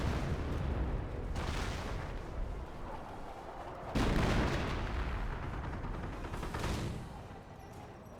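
An artillery barrage rumbles in Company of Heroes, with heavy, booming shell impacts that swell and fade in long rolling waves, loud and continuous across the whole stretch.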